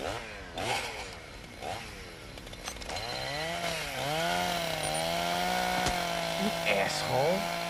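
A chainsaw sound effect in a horror play revs and whines with rising and falling pitch, fairly loud and steady, while people talk and shout over it.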